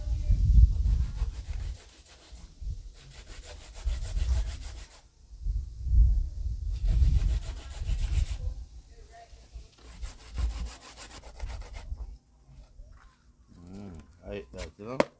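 Food rubbed against a hand grater in a Kingston, Jamaica kitchen, rhythmic rasping strokes in loud bursts with short gaps, close and continuous, tailing off near the end.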